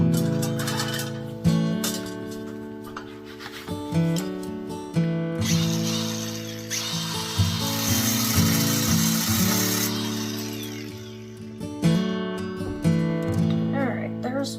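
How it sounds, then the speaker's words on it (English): An angle grinder whines loudly and steadily, its pitch dipping and rising as it cuts through a thin metal tomato cage, with brief pauses between cuts. "So I'm gonna get this cut off with my grinder"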